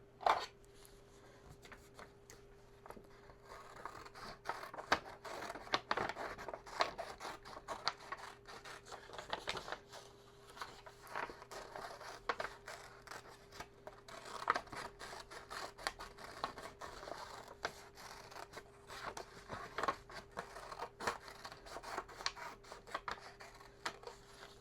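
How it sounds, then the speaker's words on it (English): Scissors snip and rustle through paper while cutting out a small paper bunny, soft crisp clicks and scrapes repeating irregularly at close range over a faint steady hum, with no talking. "I'm gonna chop this up, and then I'm just gonna cut out the bunny in the middle"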